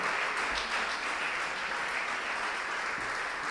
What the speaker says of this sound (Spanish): Dale un aplauso a Él en esta tarde.